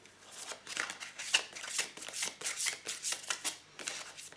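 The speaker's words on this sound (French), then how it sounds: "Je vais prendre aussi une carte du tarot des fées" Fairy tarot cards shuffled by hand, a close run of quick papery riffles and flicks in an irregular rhythm, with no talking.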